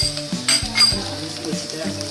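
Garlic paste and tomato paste for keema sizzle in a pan while a utensil clinks and scrapes against the metal a few times, close and clear, with a faint voice under the cooking.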